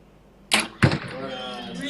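Two sharp arrow impacts strike an archery target at an indoor compound archery match, the second thud louder, followed by a low, steady crowd murmur and cheering from teammates.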